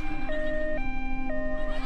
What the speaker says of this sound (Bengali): অ্যাম্বুলেন্সের শব্দ